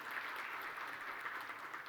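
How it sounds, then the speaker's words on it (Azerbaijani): An audience at a business management panel event applauds to welcome a speaker on stage, a soft, steady patter of many hands clapping that sounds faint and distant. "peşəkar idarəçi Anar Bayramova alqışlarınızla səhnəyə dəvət etmək istəyirəm"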